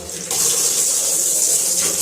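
Tap water gushes steadily into a sink while rice is washed for a home-cooked chicken curry meal, a loud continuous splashing stream that starts abruptly and runs without pause.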